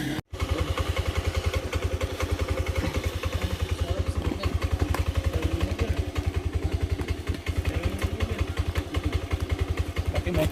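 A motorcycle rides through forest at night, its engine thumping in a fast, steady rapid pulse, close and loud, with rattling clatter throughout.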